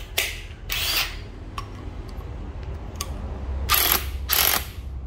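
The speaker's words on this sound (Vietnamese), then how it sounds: "Test búa đầy đủ cho các bác xem để các bác biết là nó có hoạt động" Japanese cordless drill tested in hammer mode, heard as several short bright bursts of whirring and rattling with pauses between, fairly close with a low background hum.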